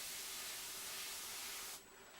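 A spray is applied to a Maven Collectibles Sun Wukong figure as a continuous soft airy hiss, close and faint, cutting off near the end.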